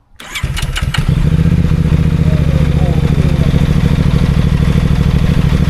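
A motorcycle engine cranks with a few rapid starter bursts, then catches and settles into a loud, steady, throbbing idle close by.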